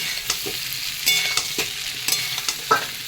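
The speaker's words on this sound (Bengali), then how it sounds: "জিরে লঙ্কা আদা বাটা দিয়ে আবারও ভালো করে কষিয়ে নেব" Cumin, chili and ginger paste sizzles and is stirred in hot oil for a fish curry, with steady frying hiss and sharp scrapes of a spatula against the pan at an irregular rhythm.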